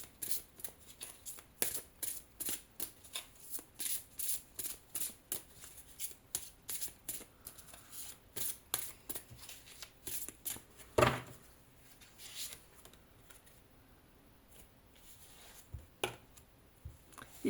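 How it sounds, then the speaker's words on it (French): Tarot cards being reshuffled by hand in a quiet room, a long run of quick crisp riffling bursts in a steady rhythm, close and clear, easing into a few sparse card slaps and shuffles near the end. "Je vais remélanger et tirer d'autres cartes."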